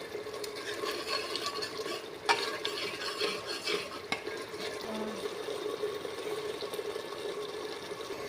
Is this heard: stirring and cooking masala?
yes